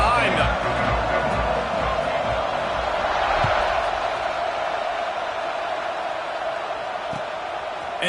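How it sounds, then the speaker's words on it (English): A college football video game stadium crowd roars at kickoff, a broad sustained wash of cheering under steady commentator talk. "this crowd now ready to get behind them"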